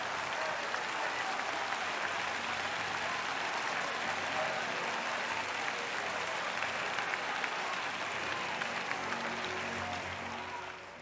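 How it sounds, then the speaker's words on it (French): A church congregation claps steadily for the Lord, a dense, continuous round of applause filling the room for about eleven seconds, staying loud throughout and easing off slightly at the end. "Give him a clap."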